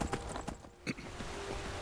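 Horse hooves in the video game Skyrim Special Edition, a quiet run of clip-clop hoofbeats with uneven spacing and a steady background hum.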